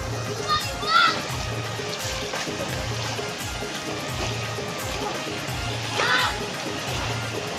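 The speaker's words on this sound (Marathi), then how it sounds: "ह्याच्यात फक्त 3 जणच पोहताव आम्ही. बारा फूट खोल आहे." Water splashes and sloshes as a few people swim in a twelve-foot-deep open-air well pond, with intermittent splashes rising over a steady wash of water and background chatter.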